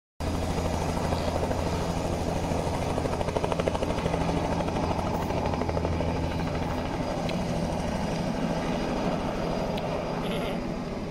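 A helicopter flying overhead drones steadily and loudly throughout, its deep rotor thump pulsing beneath a broad roar, with no voices.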